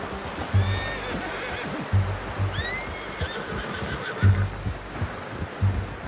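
A horse in Red Dead Redemption 2 whinnies twice in clear rising-falling calls, over a low throbbing hum and soft hoof-like thumps.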